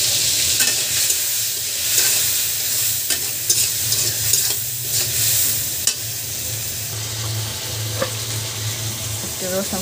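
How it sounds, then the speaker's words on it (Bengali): Hilsa fish frying with turmeric in a pan, a steady loud sizzle running throughout with scattered clicks and scrapes of stirring, no talk. "সামান্য হলুদ দিয়ে ভেজে নেব মাছটি।"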